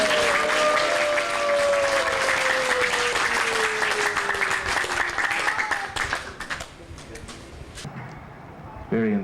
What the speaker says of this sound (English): I want to give a big applause to Bhakti Purushottam Swami for his wonderful